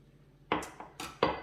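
A spoon knocks and scrapes against a jar while stirring sourdough starter, four sharp clinks in an uneven rhythm, close and fairly loud with no voices.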